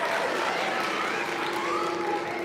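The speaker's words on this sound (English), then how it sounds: "big cheer for everybody that's been so far" An audience at a Poetry Out Loud recitation event cheers and claps, a dense, steady wash of applause with whoops rising above it, loud and continuous for a couple of seconds.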